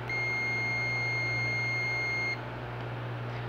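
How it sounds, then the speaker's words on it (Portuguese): A multimeter's continuity test gives a single steady electronic beep for about two seconds, then cuts off, over a constant low hum; no one speaks. "O bom bipa, o ruim não bipa."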